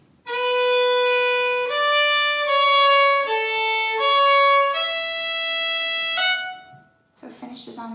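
A fiddle plays a phrase of the Manx tune Ta Cashen Ersooyl, a run of clear sustained bowed notes stepping through the melody, followed by a brief noisy sound at the end.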